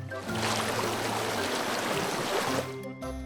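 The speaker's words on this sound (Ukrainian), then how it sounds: "водоспад." Steady broadband rush of a waterfall, continuous and fairly loud, a dense wash of falling water that holds evenly before cutting off near the end.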